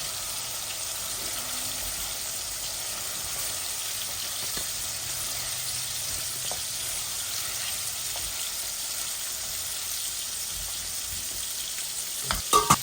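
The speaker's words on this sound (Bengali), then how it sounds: "এই আমার মাছটা ভাজা ভাজা হচ্ছে" Basa fish pieces and small potatoes fry in curry in a pan, a steady close sizzle running throughout without talk, with a few brief utensil knocks at the end.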